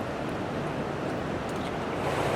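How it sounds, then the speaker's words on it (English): Raging river water in Llangollen, Wales, rushes as a dense, continuous roar that stays loud and steady throughout, without any talking. "I can hear the water raging."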